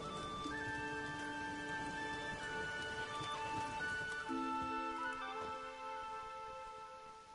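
Steady rain patters throughout a rainy village scene in the video game The Witcher 3, a dense constant hiss layered under sustained musical tones, with no voices.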